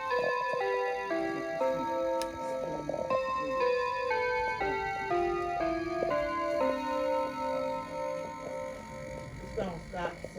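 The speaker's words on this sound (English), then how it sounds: "while we listen to the clocks" Clocks tick steadily beneath chiming tones that play a tune, while people talk over the mechanisms throughout.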